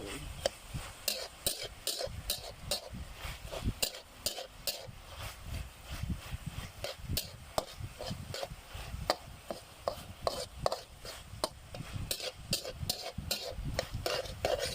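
June beetles being stir-fried in oil, mixed with sesame oil, vegetable oil, sauce and pepper. A continuous soft sizzle runs under rapid, irregular scraping and clacking of a spatula against the pan, close by and without speech.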